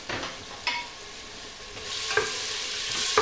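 Tomato and mushrooms sautéing in a pan, a soft continuous sizzle broken by a few quick scraping strokes of a spoon, close and moderately quiet.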